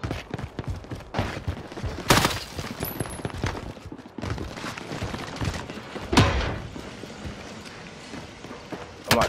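Repeated video-game gunfire in a military shooter, loud sharp shots and bursts spread through the clip, with heavy reports standing out around the middle and near the end amid continuous battle noise.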